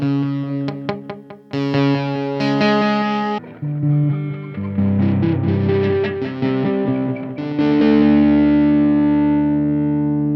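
An electric guitar plays chords and notes through an Ableton Live echo plugin, with repeats trailing after each strike, loud and up front.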